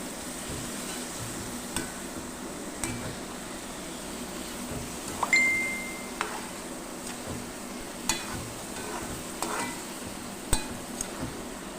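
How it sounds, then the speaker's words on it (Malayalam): Papaya pickle with tamarind extract being stirred in a pan, heard as soft scraping with a few light clinks of the utensil against the pan and a faint sizzle over a steady background hum. "ഇത് നല്ലോണം ഇളക്കി ചേർക്കാം."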